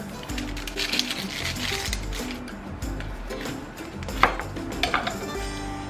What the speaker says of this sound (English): I'm just cutting off any dark spots, like might be getting bad, like that.